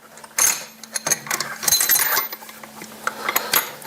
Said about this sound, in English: Okay, here's my sockets.